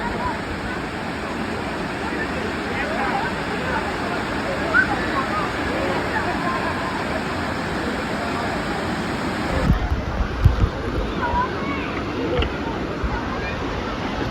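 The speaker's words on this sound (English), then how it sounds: "Like waterfalls everywhere, mountains, more waterfalls." Steady broadband rush of a waterfall in the mountains near Alicante, Spain, roaring continuously at close range, with a brief thump and slight shift in the sound partway through.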